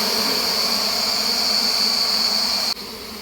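Wild forest bees swarm and buzz loudly around their hive in a tree hollow, a dense steady drone filling the air without pause, dipping slightly in level near the end.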